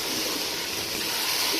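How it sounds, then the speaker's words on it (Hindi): Water poured into spiced chicken biryani gravy in a cooking pot, a steady broadband splashing pour lasting the whole short moment at close range, with no talk over it. "पानी शामिल करेंगे।"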